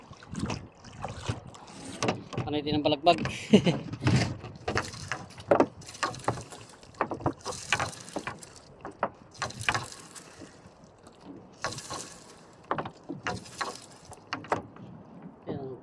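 Small wooden boat moving on water at night, with rhythmic paddle strokes, creaks and knocks close by under frequent casual talk.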